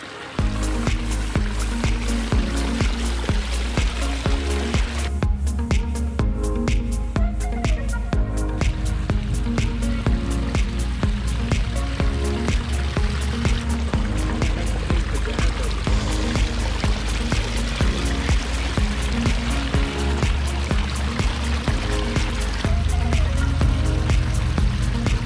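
Water trickles and splashes steadily over stacked rocks in a small pondless backyard waterfall, a continuous close babble that holds at an even level without any break.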